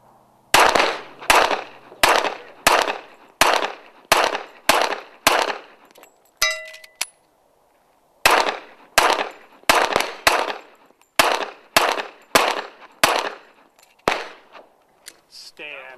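At a cowboy action shooting match, guns fire in rapid strings of sharp, loud cracks, about two dozen shots in two runs with a short pause and a metallic ring between them. People talk faintly in the background.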